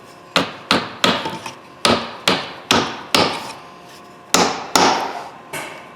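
Number 6 40 mm wooden dominos hammered snugly into wood: eleven sharp, loud hammer strikes in an uneven rhythm, each a crisp knock with a short ringing decay, with no talking.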